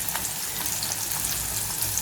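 Garlic sizzles and crackles steadily in hot oil with mustard seeds in a home kitchen, a dense continuous frying hiss with small pops, close and alone.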